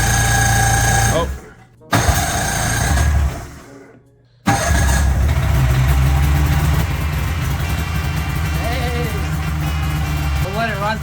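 A two-stroke snowmobile engine runs loud and close while revved with the track in the air, a steady buzzing drone that dips twice before settling, with people talking over it.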